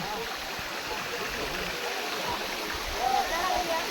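Steady broadband rush of Gira waterfall near Saputara fills the whole clip, a continuous roar with faint voices barely surfacing near the end.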